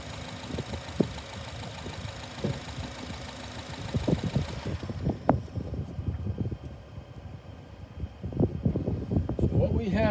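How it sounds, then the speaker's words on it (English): Honda engine idling at about 750 RPM, a low, steady rumble with light rhythmic ticking, heard up close with someone talking over it. "We are idling about 750 RPM."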